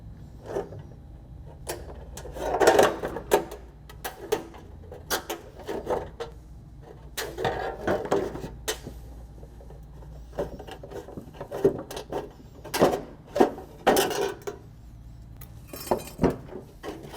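Metal gutter being cut for a downspout outlet: irregular snipping and clanking bursts, close by, with scraping and handling noises between cuts, no talk.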